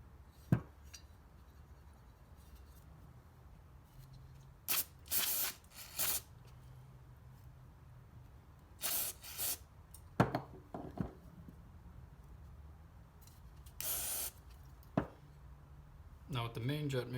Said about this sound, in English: Sometimes I'll just spray a bunch in there and let it soak.